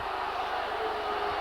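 A rugby league crowd at Widnes versus Wakefield reacts angrily to a referee's decision, a dense, loud roar of jeers and shouting from a big stadium crowd, steady and unbroken throughout.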